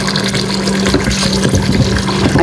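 Rice is washed in water before cooking, with loud close swishing, sloshing and trickling of water as the grains are rinsed, continuous and without talking.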